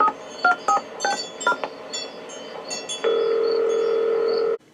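Telephone keypad tones beep in a quick run of separate presses, then a steady dial tone holds for over a second and cuts off, as a woman places a call in the horror film The Stepfather II.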